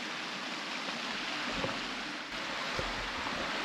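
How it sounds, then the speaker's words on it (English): A creek runs somewhere below a bush hiking track, a steady broadband rush of flowing water under light footsteps and rustle, with no talk. "now you can hear the creek running just down below us"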